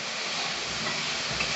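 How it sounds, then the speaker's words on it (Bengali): Eggplant frying in oil with salt and turmeric in a pan, giving a steady, even sizzling hiss close up, continuous and alone with no talking. "এই যে বেগুনটা ভাজা হচ্ছে"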